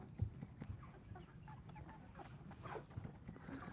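Chickens clucking on a farm, cooped up indoors on a windy day, soft scattered clucks and low calls from several birds, faint and fairly close, with no talking.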